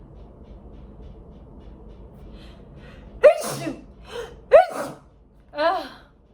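Two sharp sneezes ring out close by, each with a quick inhaled gasp before it, followed by a softer vocal sound.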